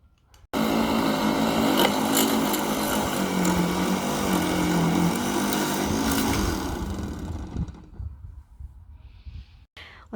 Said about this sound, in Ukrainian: Це так у нас працює аератор.